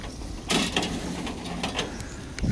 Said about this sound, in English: I like the elevator. It works good.